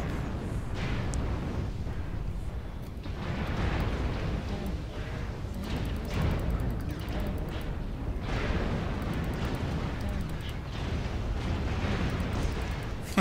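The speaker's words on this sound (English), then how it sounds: "Missiles are still hitting me." Missile impacts and explosions from the MechWarrior Online battle game, a continuous loud rumble of blasts and booms running steadily throughout with no clear pauses.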